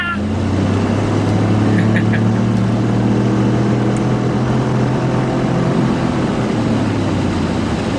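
A 2017 Ford F150 with a second-generation EcoBoost engine and 10-speed automatic drives along, its engine holding a steady, close, low rumbling drone throughout with no talking.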